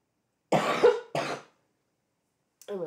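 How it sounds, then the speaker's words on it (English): A person coughs twice in quick succession, two harsh bursts close to the mic, then a short throat-clearing sound after a pause in a quiet room. "I'm really sorry I'm coughing so much today."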